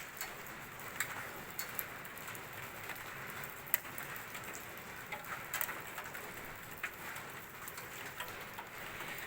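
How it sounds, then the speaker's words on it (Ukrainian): Steady rain falling, a constant hiss with scattered drips and occasional sharper taps on a surface, no voices. "Дощ іде"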